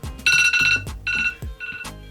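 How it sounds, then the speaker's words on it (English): An alarm goes off in a series of bright, tonal electronic rings, short repeated bursts with brief gaps between them, loud and close with no voices over it. "my alarm is going off"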